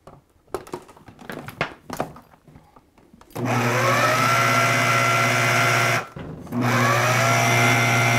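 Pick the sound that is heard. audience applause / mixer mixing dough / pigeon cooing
mixer mixing dough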